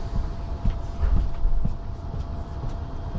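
Inside a moving train carriage crossing Poland, a low steady rumble with soft rhythmic wheel thumps and rattles, continuous and close, no voices.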